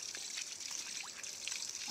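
Hot spring water flowing out steadily from an opening, a continuous close trickle and gush with faint bubbling, no voices.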